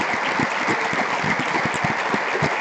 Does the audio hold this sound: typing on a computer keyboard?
no